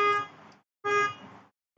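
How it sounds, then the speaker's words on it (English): Two long horn blasts, loud and close, separated by a short pause, with the start of a third at the end; it sounds like car horns honking outside, and no one speaks. "People really honking for their coffee."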